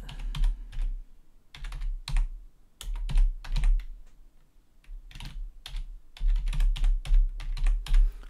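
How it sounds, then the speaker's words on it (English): An email address is typed on a computer keyboard in quick, clattering bursts of keystrokes separated by short pauses, close and clear, with no talking. "I type in my email address, click submit."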